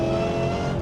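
Ford Mustang Cobra engine revving hard as it drifts, a loud, steady, close drone with a sustained harmonic whine and no talk over it.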